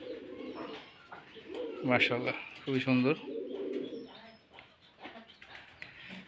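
Rajshahi Giribaz pigeons coo at a pigeon farm, with a couple of louder coo bursts close by under steady background chatter, while a person talks briefly.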